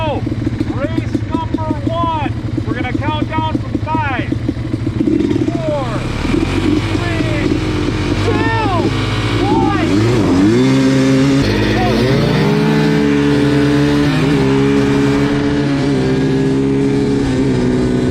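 ATVs drag racing, a 350X against a Blaster, with sharp two-stroke-style revving and rising whines as they launch and pull away, engine buzz lingering, with people talking throughout.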